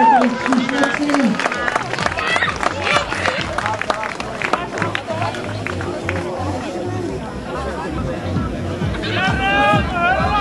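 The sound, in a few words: crowd applauding dragon boat team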